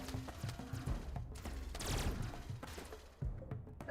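Gunfire in the RimWorld video game, with a quiet scatter of sharp shots and a louder burst of rapid fire in the middle, all faint and with no talking.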